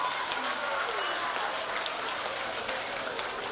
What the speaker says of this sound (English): Let's give Mrs. Jones a round of applause